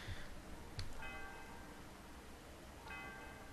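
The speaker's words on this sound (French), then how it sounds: "Ok, sonnons la cloche." A bell rings twice in the Pokémon White video game, each strike a bright chime with a ringing tail, over a steady hum with no voices.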